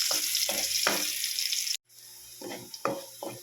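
Garlic sizzling in cooking oil in a pan for Filipino-style creamy spaghetti, a steady close crackle broken by a brief silent gap, with bursts of stirring or scraping on either side.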